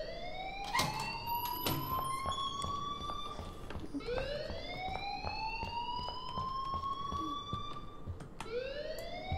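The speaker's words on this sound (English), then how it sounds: "please turn off that alarm" An alarm rings inside the video game Life Is Strange, sounding as a loud, continuous rising-and-falling siren-like wail that sweeps up repeatedly and dominates the scene from start to finish.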